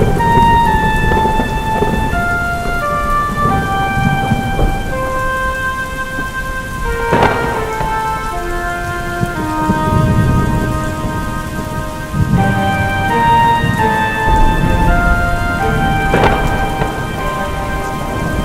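Steady rain pours down throughout, with rolls of thunder rumbling through, louder bursts arriving twice along the way.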